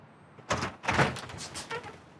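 A residential front door opened by police officers during a search warrant raid, heard as a couple of close, heavy thumps and rattles followed by shuffling movement.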